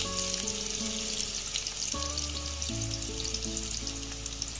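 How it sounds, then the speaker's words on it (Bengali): Large chunks of potato for biryani fry in oil with a steady, close sizzle and crackle, while sustained music tones play underneath the whole time and no one speaks. "নর্মাল যেরকমভাবে আলু ভাজা হয় সেরকম ভেজে নেবো একটু"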